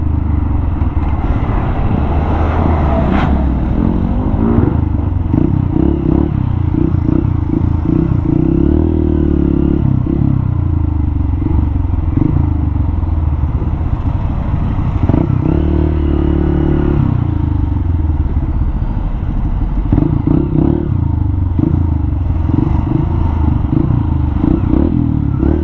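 Heavy road traffic with large trucks and motorcycles on a coastal road near a pier and police checkpoint, where roadwork is slowing traffic; a loud continuous engine rumble with clattering and passing revs, close and unbroken.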